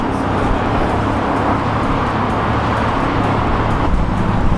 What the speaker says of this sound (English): So while the bike is warming up, getting up to operating temperature